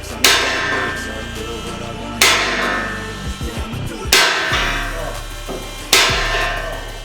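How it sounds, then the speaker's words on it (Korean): A sledgehammer drives a steel H-beam into position during a home duplex reinforcement build, with four heavy, ringing metallic blows spaced about two seconds apart, loud and close, with smaller knocks between them. "보 부분을 들어주고 시공될 위치에 넣어줄 때는 슬랩지 해머를 사용해 넣어줍니다."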